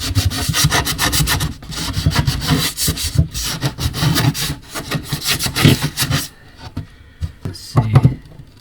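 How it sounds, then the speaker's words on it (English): Wood is sanded by hand with a sanding pad during a storage build, giving rapid rhythmic rasping strokes, loud and close, for about six seconds, then a pause and a few last scrubs. "1, 2, a little bit of a sand, and then we'll try them out."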